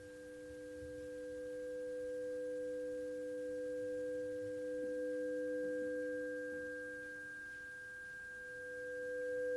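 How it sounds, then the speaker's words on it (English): Synthesized sine tones for multichannel music hold perfectly steady as several pure pitches layered together, quiet and smooth across the whole stretch with a gentle swell in level and no voices. "let's start with some sine tones."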